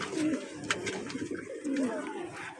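Teddy breed pigeons coo up close, two low rolling coos with soft bird rustling in between.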